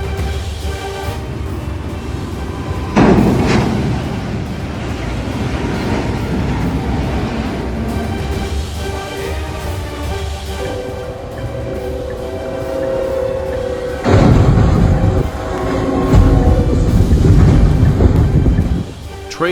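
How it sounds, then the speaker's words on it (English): A CSX freight train collides with a stranded truck carrying an M-series howitzer in South Carolina: loud rumbling roar with wind buffeting the microphone, a heavy crash and surge of noise around three seconds and again near fourteen seconds. "Train slams into a truck carrying tanks in South Carolina."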